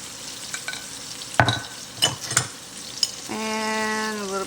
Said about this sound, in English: We're just going to let these saute together.